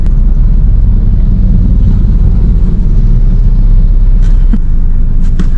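A car passes close by a gas station, a steady loud engine and tyre rumble that holds throughout, with a couple of brief sharp knocks near the end.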